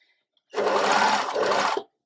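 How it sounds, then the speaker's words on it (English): Sewing machine running a single continuous burst of stitching along the fold of a culottes pleat, a close, steady motor whir lasting just over a second, alone with no talk. "Sewing all the way to the end"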